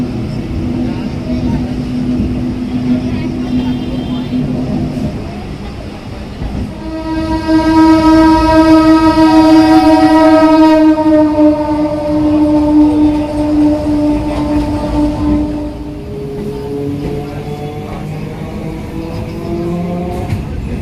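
A local passenger train runs through Serampore past a rail gate, rumbling loudly and close, with a long sustained horn blast midway, a softer horn afterward and a steady rolling clatter underneath.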